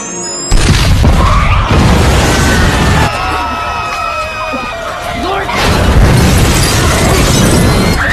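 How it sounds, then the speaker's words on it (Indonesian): A massive explosion in a Final Destination film scene booms in loudly, followed by a sustained roaring rumble and crashing debris, with faint shouting voices mixed into the chaos. "benar saja terjadi ledakan besar"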